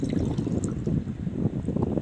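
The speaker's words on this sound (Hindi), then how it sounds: "अभी सारे पानी इस गिलास में डालते हैं।" Water from a clay pot poured into a glass, a short close burst of gurgling, splashing liquid heard on its own.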